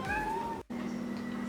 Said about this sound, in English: give your cute, adorable kitties some attention